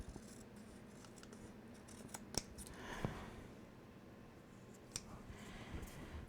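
Scissors cut out a transparent plastic pocket for an album in faint, close snips and crisp clicks scattered over a quiet background.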